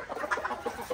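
Caged chickens and a rooster on a small backyard poultry farm give a quick burst of soft clucks, close by and fairly quiet, lasting about a second.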